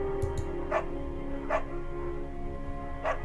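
A beagle in the Firewatch video game barks three times, spaced evenly about every three quarters of a second, each bark moderately loud and close against a steady low background hum.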